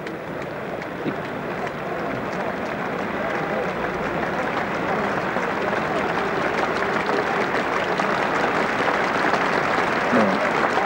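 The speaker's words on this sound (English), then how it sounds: "the crowd immediately clapped" Crowd applause at a Lord's Test cricket match between England and Australia, a steady wash of clapping from a large stadium audience sustained throughout, fairly loud and distant-sounding.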